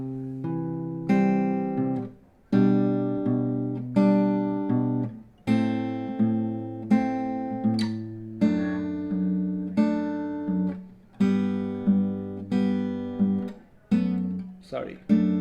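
Fingerpicked acoustic guitar plays the bridge of a song, a steady run of plucked, ringing chords phrase by phrase with brief gaps between groups, close and clear with no talking.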